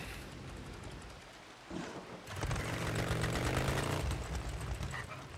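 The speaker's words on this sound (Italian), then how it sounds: "sento rumori assurdi di sta moto" A buzzing motorcycle engine in the video game Days Gone revs and drones loudly, rising after a short quieter stretch, with a rough mechanical rattle.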